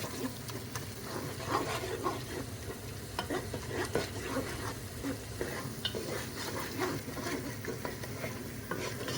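Tomato paste stirred with softened garlic and shallots in a hot pot, a steady sizzle under continuous scraping and stirring strokes, close and moderately loud with no talking.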